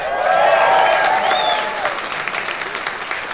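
Audience applause at a Batman 'Death of the Family' comics panel at New York Comic Con 2012, a loud burst of crowd clapping with some cheering that gradually thins out over a few seconds.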